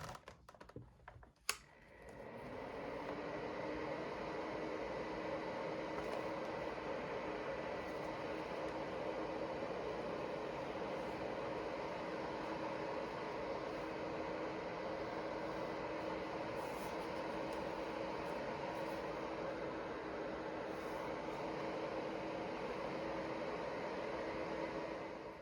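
A KADS nail dust collector switched on with a click and then running steadily, giving a constant, even fan whir and hiss that holds at the same level throughout.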